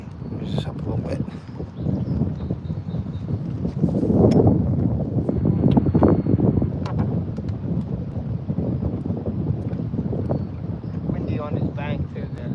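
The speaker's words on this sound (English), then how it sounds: "Windy on this bank too there." Steady wind gusts across the bank of a lake during bass fishing, rumbling and buffeting the microphone, with people talking over it.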